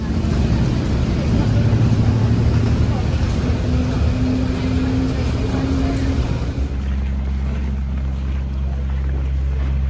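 A bus approaches along a snowy street in Thunder Bay, Canada, heard as a steady, loud low rumble with wind noise over the microphone, and a voice speaks over it.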